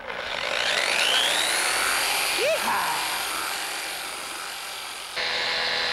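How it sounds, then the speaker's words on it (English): A power polisher whirs steadily at a high pitch while aggressively sanding wood, with a brief dip in speed near the middle. "Let's try some aggressive wood sanding first."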